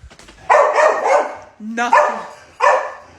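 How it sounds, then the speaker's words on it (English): Dogs barking nearby in a series of loud, separated barks with short gaps between them, some with a higher yelping edge. "Dogs barking and everything."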